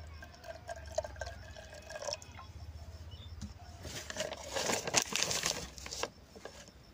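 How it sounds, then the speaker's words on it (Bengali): Water being poured onto shell lime in a container, with soft splashing and dripping that swells toward the middle and then eases, close and moderately quiet. "আরো জল দিম আমি এখন।"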